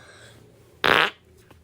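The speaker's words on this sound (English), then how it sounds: "I gotta fart." A single loud, close fart blasts out for about a quarter second, a raspy burst rising out of quiet room tone, with no talking during it.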